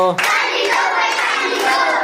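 Children's clapping song with regular, close hand claps landing every half second or so beneath lively sung voices.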